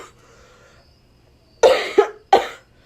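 A person coughs three times in quick succession after a near-silent stretch, each cough loud, close and sharp with a short tail.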